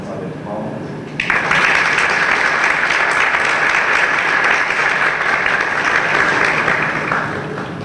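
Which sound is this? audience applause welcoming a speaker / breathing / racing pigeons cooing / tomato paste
audience applause welcoming a speaker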